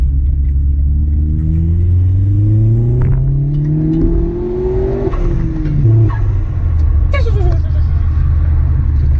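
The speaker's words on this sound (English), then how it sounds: "it sounds great really for the standard Remus exhaust that come with these cars" Vauxhall Astra VXR hatchback with its standard Remus exhaust accelerating hard, engine note climbing loud and close through several gear changes, deep exhaust rumble throughout with no talk over it.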